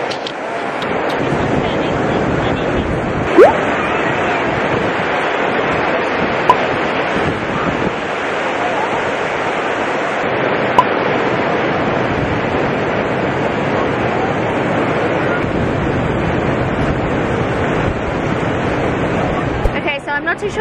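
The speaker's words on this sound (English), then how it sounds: "it's going to be super windy and I don't have my microphone" Strong wind blows across a sunny midday beach, with surf in the background. The gusts batter the microphone as a loud, rough, constant roar, and a voice is faintly buried underneath.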